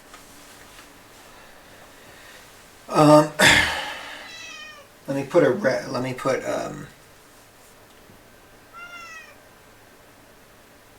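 A cat cries out with two loud meows in quick succession, the second drawn out, then a fainter short meow follows; a single spoken word is heard at the start.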